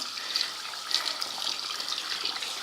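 Bloodstained cloth scrubbed and rinsed under running tap water, a close, steady hissing water flow with soft splashy surges, no talk.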